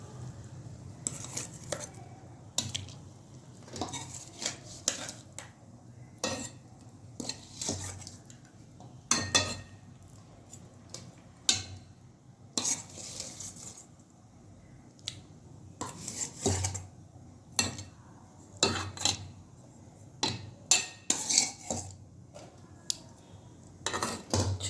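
A spoon stirs marinated fish gently into tamarind curry in a metal pot, with repeated clinks and scrapes against the pot in an irregular rhythm over a soft background, close and fairly clear with no talking.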